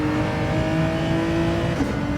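A race car in Gran Turismo 7 accelerates hard after an upshift, its engine holding a loud, steady, high-pitched drone throughout with no talking over it.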